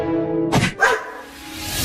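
A cartoon dog gives two sharp, close barks in quick succession, loud against a sustained tonal background that fades out afterwards.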